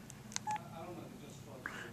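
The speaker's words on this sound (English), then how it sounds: "you turn on the phone" LG Banter phone powering on, giving short electronic beeps and tones, faint and brief against quiet room noise.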